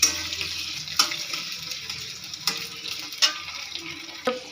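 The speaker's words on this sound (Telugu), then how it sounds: "ఆనియన్స్ వేసుకొని గోల్డెన్ బ్రౌన్ కలర్ వచ్చేదాకా ఫ్రై చేసుకోవాలి" Sliced onions fry in oil with curry leaves toward golden brown, giving a steady soft sizzle broken by a few sharp stirring clinks and scrapes in the pan.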